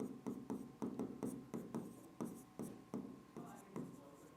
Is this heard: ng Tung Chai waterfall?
no